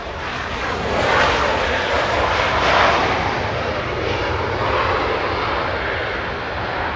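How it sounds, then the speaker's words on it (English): Air Canada Express CRJ 900 jet arriving at Los Angeles International Airport from Calgary, a steady broad engine roar that swells slightly and holds loud throughout, with no voices. "Now we go to Air Canada Express, a CRJ 900 flying in from Calgary."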